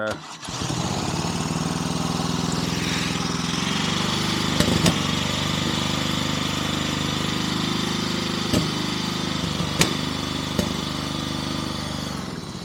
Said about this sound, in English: it's not happy, it's trying, it's backfiring a bit and fuel dripping out of the exhaust